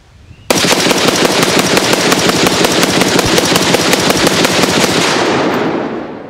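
An AR-10 rifle dumps a full magazine, firing a fast, continuous string of loud, close, evenly spaced shots for about six seconds before the burst trails off, with no talking.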